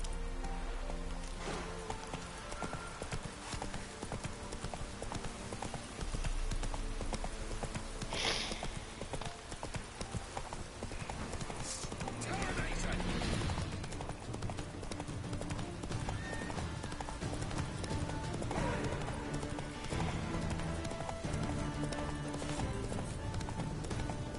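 Hooves of Geralt's horse Roach in The Witcher 3 clip-clop at a gallop over a steady bed of game ambience and rain, with a brief whinny partway through; no one talks over it.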